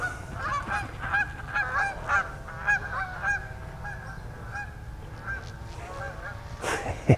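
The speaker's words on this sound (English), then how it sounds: "Canadian geese." Canada geese honk repeatedly outdoors in Guilford, Connecticut, a flock calling in overlapping bursts at moderate distance over steady background rumble.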